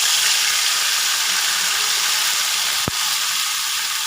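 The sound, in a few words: spice paste and spiced water sizzling in hot pan, fish curry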